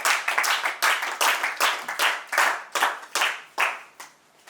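Audience at a 1970-71 commerce batch college reunion clapping together in a steady burst of applause that tapers off at the end, fairly close and without talk over it.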